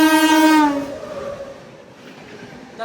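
A Kazipet–Secunderabad MEMU train, 67764, waiting on the loop line at Ghanpur railway station, with a long, loud horn blast that fades out, followed by quiet rumbling and a faint click near the end.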